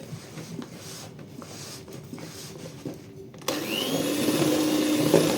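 Oat flour is stirred in a bowl for a sugar-free chocolate pie, a soft rubbing scrape at first that jumps to a louder, steady whirring rush partway through.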